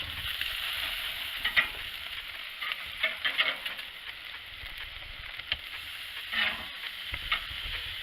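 A pork chop sizzles on a barbecue grill, a continuous crackling hiss with small pops and shifts as it is moved toward a cooler zone, with no voices.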